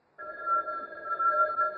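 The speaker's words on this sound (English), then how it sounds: "Phone. Where's the phone?" A telephone rings with a steady, sustained electronic tone that starts abruptly and holds clearly, alone with no talk over it.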